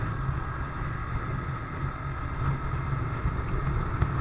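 A Yamaha R15 V3 motorcycle cruises in fourth gear at a steady speed, its engine drone a continuous low rumble mixed with wind rush, with no voices.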